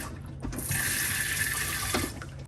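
Water rushes steadily into a 2021 Coachmen Crosstrail 22XG RV toilet bowl for about a second and a half, a loud continuous hiss that starts abruptly and cuts off near the end.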